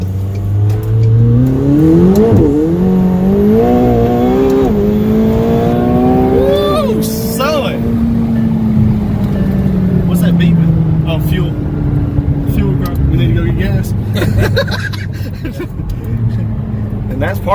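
A 2019 McLaren 720S supercar revs and accelerates hard, engine pitch sweeping up through gears in loud close bursts, then settling into a steady drone, with a voice talking over it.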